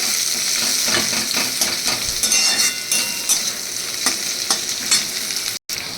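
Crushed garlic and onion sizzle steadily in hot oil in a pan as a spatula stirs them, with repeated scraping strokes and light metal taps over a constant loud frying hiss.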